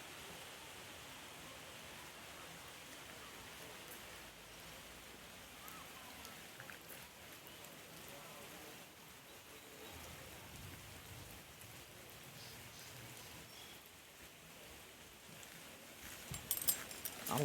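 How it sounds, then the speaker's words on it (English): Steady rain falls on a hiking trail near Trahlyta Falls and Slaughter Mountain, a continuous broadband hiss that holds even throughout, with a few louder close patters near the end and no talk. "Got a little rain going on."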